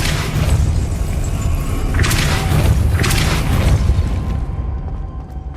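Depulso force spell cast in Hogwarts Legacy on Xbox Series X: a dense rumbling blast with heavy booming thuds and two bright bursting surges, then fading out.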